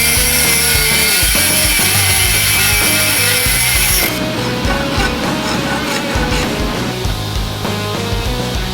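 Threads cut onto a rod for a Ferrari 430 Scuderia manual shifter build, with a nut threaded onto the end, heard as a loud, steady machining drone with a shrill whine that drops away partway through.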